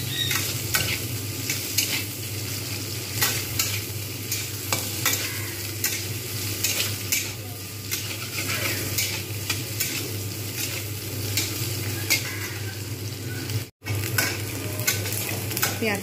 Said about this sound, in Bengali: পেঁয়াজটাকে আমি লাল করে ভেজে নেব